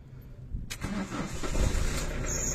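A car engine cranks and catches right after its dead battery was recharged, firing up quickly and settling into a steady, close idle with no talking over it.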